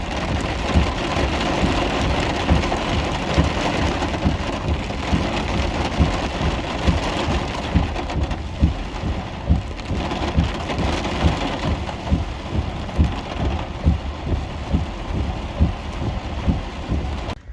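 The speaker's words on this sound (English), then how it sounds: "It's been raining this whole time." Heavy rain pours steadily at Fort McAllister State Park campground near Savannah, Georgia, a dense, loud, unbroken wash of drops close by with no voices.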